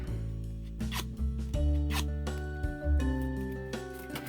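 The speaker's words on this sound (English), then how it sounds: "use the edge of your scissors and just curve and curl the paper" Paper petals are curled along a scissors edge, giving close, brisk scraping strokes in short repeated bursts over a low hum.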